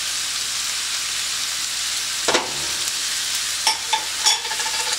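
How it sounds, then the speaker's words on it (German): Minced meat, mushrooms and onion for a pizza topping sizzle steadily in a pan, a close, even hiss broken by a few knocks and scrapes of a spatula stirring near the end, with no voices. "ich lasse das jetzt noch 1-2 Minuten ein bisschen dünsten"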